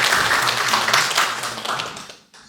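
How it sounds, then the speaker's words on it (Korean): A congregation claps in thanks during a Korean church Sunday worship service, a dense, steady patter of many hands that fades out near the end with no talking over it. "우리 한번 박수로 감사해"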